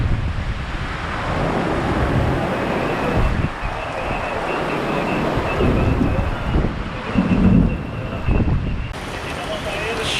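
Floodwater rushes across land like a river on Ibiza in Spain's Balearic Islands, a steady loud roaring wash mixed with heavy wind buffeting the microphone.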